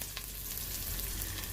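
Sliced ginger sizzling in hot oil in a frying pan while cooking sardines, a steady, close hiss of frying with faint crackles throughout and no talking.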